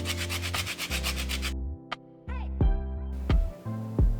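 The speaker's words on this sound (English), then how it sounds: "Squeeze of a lemon over the tuna and the salad. And also give it some zest." Lemon zest is rasped over a salad with seared sesame-crusted ahi tuna: a few short, rough scraping strokes close by, separated by pauses, with a soft tonal hum underneath.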